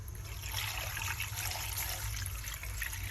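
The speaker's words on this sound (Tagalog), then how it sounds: "Ayan, so lagyan na natin siya ng tubig." Water pours steadily into a cooking pot for native chicken tinola, a soft continuous splashing trickle at low volume with no talk.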